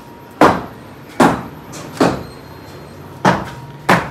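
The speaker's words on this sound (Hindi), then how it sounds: "इधर से दरवाज़ा खोल गया है" Door and cupboard sounds at a home in Pakistan: five sharp knocks or bangs at irregular intervals, fairly near and loud over a low steady background.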